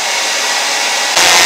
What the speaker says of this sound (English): converted into heat, sound, and mechanical energy in the blow dryer